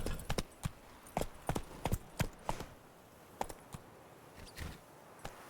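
Roach the horse's hooves clip-clopping in the video game The Witcher 3, a loose series of sharp, close hoof strikes in uneven bursts, fading to sparser steps toward the end over quiet background.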